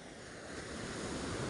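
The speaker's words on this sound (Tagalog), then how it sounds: "ang mga alon po, delikado at saka may hangin" Sea waves surge in a steady broadband wash with gusting wind over the microphone, growing slightly louder throughout a short stretch of rough, whitecapped shoreline water, with no voices.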